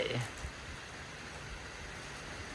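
Rain falls steadily all day outside a rural Thai home, a soft, even hiss of drops at a low level, with a brief louder patter at the start and no talk.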